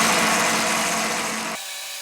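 A buffing wheel spins at its highest speed, polishing a knife handle with a steady whirring drone that drops off sharply near the end.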